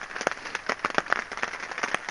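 Rain patters steadily in a Hoh Rain Forest valley bottom during a wet December, scattered drops striking close by in an irregular, soft pattern, the showers loosening wet snow into avalanches on the surrounding slopes.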